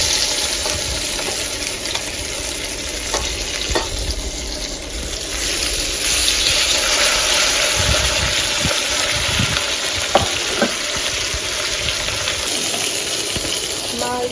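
Fish pieces frying in oil in a pan, a steady close sizzle and hiss with occasional clinks and scrapes of a utensil throughout.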